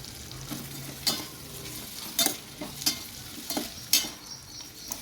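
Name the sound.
stirring sliced onions with salt frying in a pan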